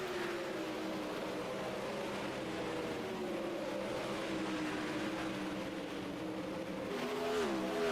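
360 sprint cars in a heat race at Eldora, engines droning steadily at a distance as the pack circles the dirt track, with a louder revving pass near the end.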